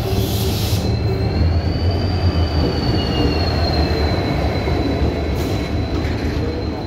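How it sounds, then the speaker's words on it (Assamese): A train pulls into an Indian railway station, its wagons rumbling steadily while metal wheels squeal in a long, drawn-out whine, loud and close throughout. "ট্ৰেইন আহি গ'ল ইয়াত দেখাই আছে"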